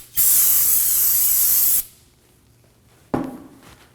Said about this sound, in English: Using some brake parts cleaner, we're gonna go ahead and spray the surface of the rotor.